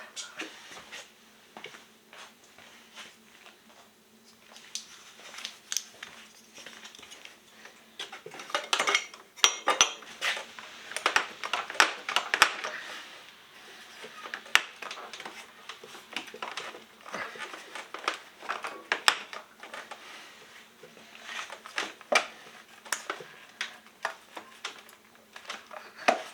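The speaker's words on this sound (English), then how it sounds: "Oh, gotta put the clamps on." Clamps going onto a Sidewinder MTX during modifications, a run of clicky metallic clinks and rattles with a louder burst of handling noise in the middle, close by and with no talking.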